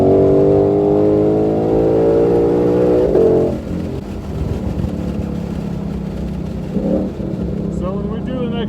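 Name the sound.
2020 Ford Mustang GT500 accelerating on race track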